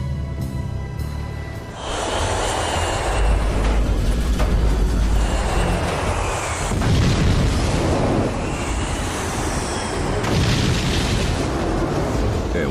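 A passenger airplane blows up in a dramatized disaster scene: a sustained, roaring explosion with heavy low rumble and crackling bursts swelling over several seconds, loud and close.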